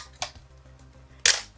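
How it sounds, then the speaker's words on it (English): A 35mm film camera shutter set to 1/125 second fires with a sharp mechanical click, followed about a second later by a louder, brighter snap; nearby and isolated, with faint hum between. "then put it on 125 shutter speed"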